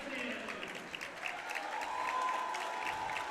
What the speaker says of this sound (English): You can hear the crowd just going, wow